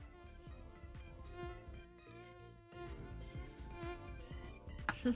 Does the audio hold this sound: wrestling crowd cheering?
no